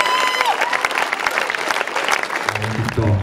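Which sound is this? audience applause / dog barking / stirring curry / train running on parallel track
audience applause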